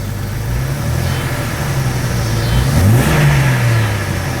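A 2000 Jeep Cherokee XJ engine runs loud and close, rising in one rev and falling back, with a steady exhaust drone throughout.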